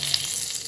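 Bay leaves and cardamom pods sizzling in hot ghee, giving a steady, hissing crackle that stays close and even throughout, with no voices.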